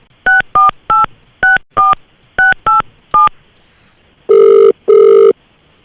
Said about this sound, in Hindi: देखा, अब यही नंबर रीडायल कर रहा हूँ मैं